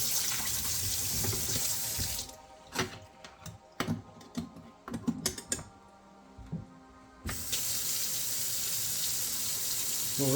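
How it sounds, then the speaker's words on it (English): Tap water runs into a sink while a felted scarf is rinsed, with a loud steady stream. The flow stops for several seconds, leaving splashes, drips and clunks from handling, then the stream starts again. "We'll rinse it a couple times and then we'll get it ready to dry."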